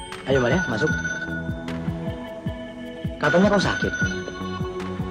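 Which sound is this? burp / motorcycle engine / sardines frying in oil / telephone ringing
telephone ringing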